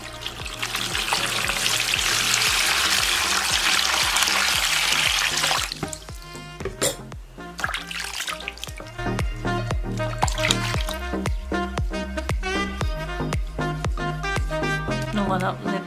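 Water runs over skin to rinse off a dried lemon-based skincare product, a broad steady splashing for several seconds before stopping, with music playing throughout.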